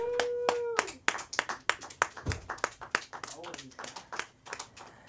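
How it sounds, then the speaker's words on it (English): A small comedy-club crowd at a school of comedy show claps for arriving comedians. The claps are scattered, sharp and uneven, and a voice is briefly heard at the start. "Give them a round of applause"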